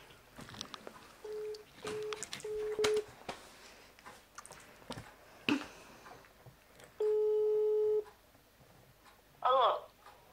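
A phone call goes out: short ringback beeps repeat, a longer steady tone holds for about a second, and a voice answers through the line, with people talking in between.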